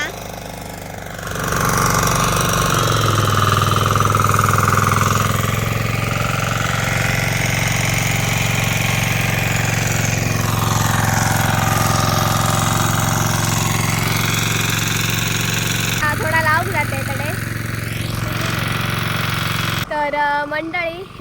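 A tractor engine runs steadily and loudly throughout with a deep, continuous rumble and knocking throb, its pitch shifting slightly near the end.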